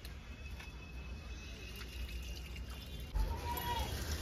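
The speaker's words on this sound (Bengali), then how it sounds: "মা এবার শাকটা ধুচ্ছে" Tap water runs steadily at a distance as leafy greens are washed under it at an outdoor tap, with a brief louder splash near the end.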